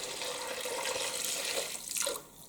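Broth poured into a cooking pot while making a cabbage dish, a steady liquid pour with a rushing, splashing texture, close and continuous, tapering off near the end, with no talk.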